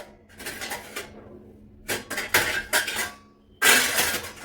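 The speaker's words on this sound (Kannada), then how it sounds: "ಇವಾಗ ಪಾತ್ರೆ ಜೋಡಿಸ್ಕೊಳ್ತಾನೆ ಹಾಗೆ ಮಾತಾಡ್ತಾ" Kitchen vessels and utensils are set in place in a home kitchen, giving bursts of clattering metal clinks and scrapes in separate clusters with short quiet gaps between, close by and fairly loud.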